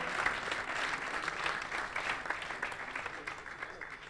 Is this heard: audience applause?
yes